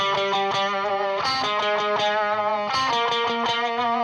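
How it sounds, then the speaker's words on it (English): Distorted electric guitar climbs a rising scale line in a song, sustained notes stepping upward with a repeating rhythm over a bass and band backing. "the guitar contrasts that with a walk up the scale"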